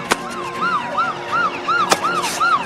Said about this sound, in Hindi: देखो पुलिस की गाड़ी आ रही है